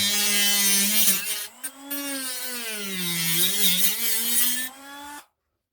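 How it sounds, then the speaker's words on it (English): Dremel rotary tool enlarging a hole in a Scalextric LMP slot car chassis, a loud steady high whine that dips briefly and wavers in pitch as it bites, then stops abruptly. "all I'm going to do now is just basically enlarge this hole with the Dremel"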